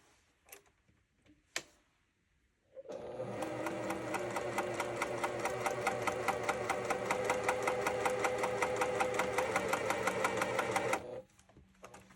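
A sewing machine stitches pillow fabric in one steady, fast run of rhythmic ticking that lasts about eight seconds, with a few faint handling clicks before it starts and after it stops.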